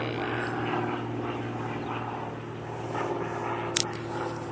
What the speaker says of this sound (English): Plane! I hear you.